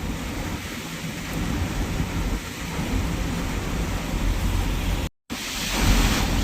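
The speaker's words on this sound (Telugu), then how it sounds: "దగ్గర దగ్గర ఇరవై నిమిషాలు అవుతుంది వాన కొట్టబట్టి ఇంత గ్యాప్ ఇస్తలేదు" Dense, steady roar of heavy rain on the road to Vizag with deep thunder rumbling underneath, continuous and loud, broken by a brief silent gap near the end.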